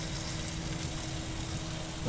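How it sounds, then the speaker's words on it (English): Meat sizzling on a cooker while being basted with sauce, giving a dense, steady crackling hiss that holds at an even level, fairly close and without talk. "Oh, you hear the sizzle?"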